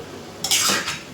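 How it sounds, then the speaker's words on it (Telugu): Chicken fry with plenty of curry leaves being stirred in a pan: a single short metal scrape and clatter of a spoon against the pan, moderately loud and close, with no talking. "కరివేపాకు వేసుకొని మిక్స్ చేసుకోవాలి"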